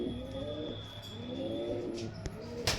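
Pigeons on a pigeon farm coo in repeated low, soft, rolling calls, with faint chirps and brief rustles in the background.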